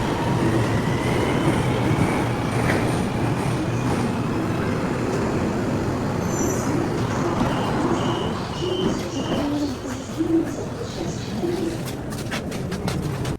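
A train rolls along at steady speed on the way to Cameron Highlands in Pahang, Malaysia, with a continuous low rumble and wheel clatter filling the space and faint bird calls drifting above it.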